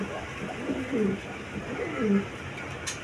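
Quality pigeons, a male and female pair, cooing in soft repeated low phrases, two clear coos close by over a quiet background.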